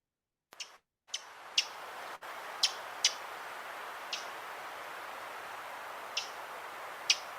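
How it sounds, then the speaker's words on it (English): A fox sparrow gives short, sharp chip calls, roughly seven or eight of them at irregular intervals. Each note stands out clearly against a faint background hiss, with no voices. "Compare that to a fox sparrow."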